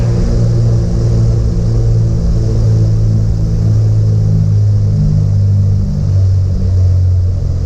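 The twin engines of a Cessna 310 drone steadily from inside the cabin as the throttles close, a loud low hum whose pitch sags slightly over several seconds, with no one talking.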